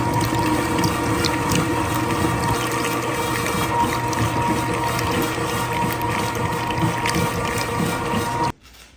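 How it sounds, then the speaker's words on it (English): A big meat grinder works coarse hog meat for homemade breakfast sausage, giving a loud, steady mechanical grinding whir that runs without a break and then cuts off abruptly near the end. "But you don't have to have a big fancy grinder like this."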